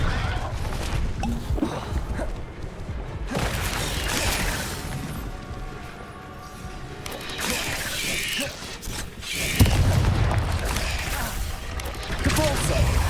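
Repeated fiery spell blasts from Confringo in the Hogwarts Legacy video game burst and crackle amid clattering combat effects, several loud impacts spread across the stretch with a voice shouting between them.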